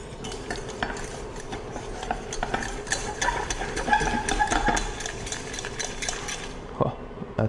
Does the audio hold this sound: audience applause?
no